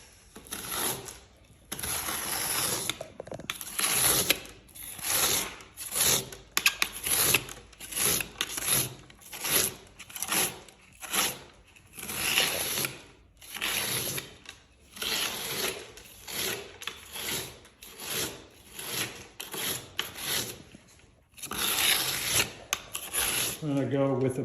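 A tool scrapes around the inner edge of a young unglazed-patina bonsai pot during a demonstration, producing repeated close rasping strokes in an uneven rhythm, with occasional clinks.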